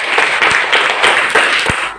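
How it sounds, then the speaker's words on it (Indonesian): A classroom group of children clapping in unison during a primary school lesson, a short burst of rhythmic applause with repeated accented beats, fairly close and lively. "Tepuk tangan untuk ini"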